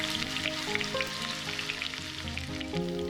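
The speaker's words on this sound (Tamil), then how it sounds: "மீதம் இருக்க எல்லா மீனையும் இதே மாதிரி போட்டு பொரிச்சு எடுத்துக்கலாம்" Fish frying in oil on a flat tawa, a steady soft sizzle with light crackles, fairly quiet and close, with no one speaking.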